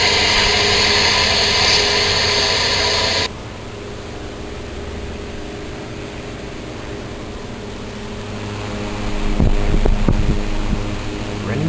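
An antique 1907 Westinghouse electric fan runs with a steady low hum and whir, heard alone after a brighter noise stops early on; a few clicks and knocks come near the end.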